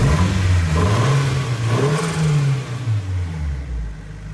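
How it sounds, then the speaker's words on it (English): A Nissan Silvia S15 with a tuned SR20DET turbo engine, T28 turbo, stainless manifold and aftermarket downpipe, revving up and down in smooth rising and falling sweeps, loud and close. "Engine run really good in this one."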